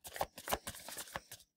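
Rune or oracle cards being shuffled by hand, a quick run of soft papery riffles and slaps over about a second and a half, close and clear with no talking.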